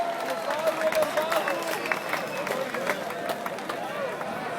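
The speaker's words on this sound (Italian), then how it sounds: "Un applauso agli organizzatori della festa della Trebbiatura del Valle San Giorgio" Crowd applause for the organizers of a threshing festival in Valle San Giorgio, a dense patter of clapping mixed with voices and babble, steady and fairly close.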